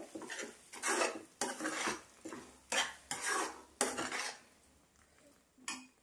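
Cooked semiya being mixed with ghee in a pan, several separate bursts of close metal scraping and clinking from a spoon against the pan, with short quiet gaps between strokes and no talking.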